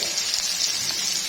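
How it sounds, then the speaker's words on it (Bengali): Fish fries in hot oil in an iron wok, making a soft, even, continuous sizzle with no other sounds over it. "লোহার কড়াইতে মাছ ভাজি করতে খুব ইজি এবং সুন্দর করে মাছটা ফ্রাই হয়।"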